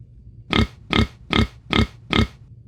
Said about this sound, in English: A pig says, oink, oink, oink, oink, oink, oink.